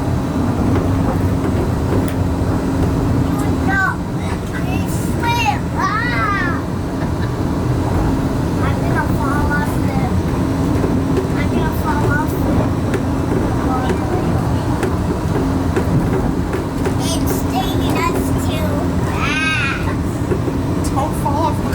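A Disneyland monorail ride rumbles with a steady, loud vehicle drone throughout, while bird calls and scattered voices rise faintly above it.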